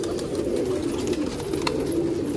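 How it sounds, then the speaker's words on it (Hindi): Pigeons coo continuously in a low, throaty drone, several birds overlapping close by with no talking, from a large flock of over 200 kept pigeons. "बहुत ज्यादा कबूतर है"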